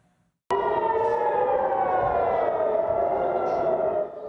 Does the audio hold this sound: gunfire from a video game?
no